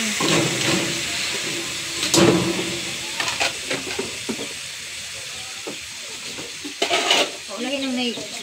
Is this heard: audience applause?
no